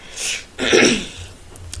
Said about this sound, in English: So don't mind me if I clear my throat a bunch of times.